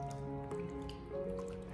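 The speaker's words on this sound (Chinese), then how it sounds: "用手给它不停的抓拌一下，把大虾里面的一些脏东西掏洗干净" Hands stir and rub prawns in a bowl of clean water, making close wet squishing and dripping sounds that splash continuously.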